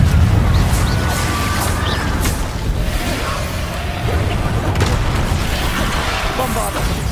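Fire spells such as Confringo blasting in Hogwarts Legacy, a dense run of booming explosions and crackling bursts that stays loud and continuous throughout, with heavy low rumble.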